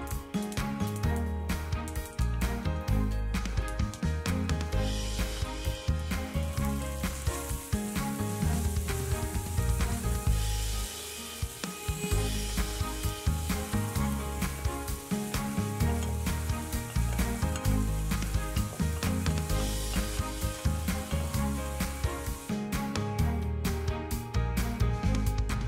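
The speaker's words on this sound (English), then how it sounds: "I'm going to fry all these ingredients with some olive oil for about 2 minutes" Courgettes and other couscous ingredients fry in olive oil with a loud, steady sizzle throughout, a dense crackling hiss that briefly thins out midway before resuming, with no talk.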